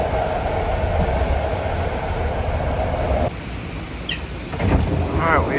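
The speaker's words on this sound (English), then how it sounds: "This is a Green Line train to Daly City." BART Green Line train bound for Daly City, a steady loud rumble of the moving carriage with rail noise, a brief drop in level midway and faint chimes near the end.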